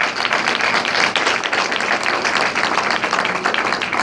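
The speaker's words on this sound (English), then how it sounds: "Let's give ourselves a round of applause." Sustained audience applause at a community gathering on a police academy program, a dense, even wash of many hands clapping steadily with no pauses.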